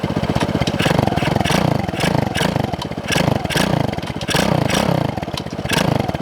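A motorcycle engine runs close by while warming up, a steady loud chugging idle with rhythmic pulses and occasional surges, with some clattering alongside.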